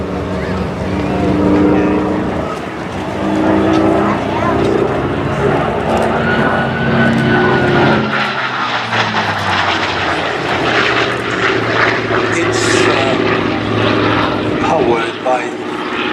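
Vintage propeller aircraft powered by a Bristol Centaurus sleeve-valve radial engine flies past at an air show, a loud droning roar with shifting pitch as it passes, while a commentator talks over it.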